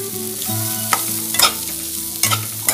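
Corn kernels frying in a pan over a low flame, with a steady soft sizzle and a few sharper scraping stirs and clatters at intervals, close and clear with no talking.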